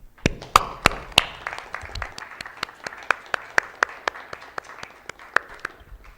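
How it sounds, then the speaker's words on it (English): Applause at a high school board of education meeting, a few people clapping with sharp, loud claps close to a microphone standing out over softer clapping from the room. "You've all done a phenomenal job, and you all deserve a round of applause."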